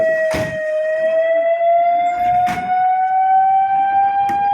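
A fire engine siren wails at a burning car in a long, slowly rising steady tone, loud and close, with a few sharp bangs or knocks breaking through.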